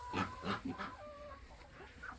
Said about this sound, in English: Okay, the chickens got their layer crumble and their corn for scratch.